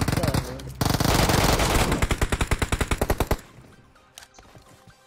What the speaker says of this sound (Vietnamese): Bắn Uzi ở đâu vậy ta?